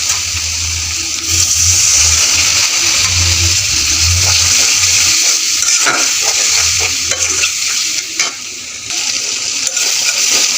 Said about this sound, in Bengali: এখন পানি দিয়ে দেবো, পানি দিয়ে কষাবো।